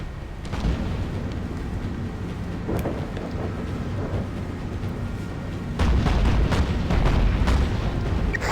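Naval gun salvos from warships in the Battlestations Pacific video game at the Battle of Cape Esperance, with repeated distant booms over a steady rumble, turning louder and denser near the end.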